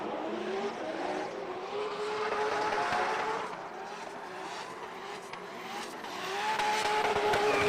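Drift cars at a Formula D pro-am drift competition at Lake Erie Speedway, engines wailing and revving at high load while tires squeal continuously, loud and sustained without talk.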